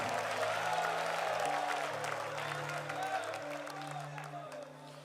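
A church congregation claps and calls out praise during a sermon, a sustained patter of applause mixed with voices, while a steady tonal hum sits beneath.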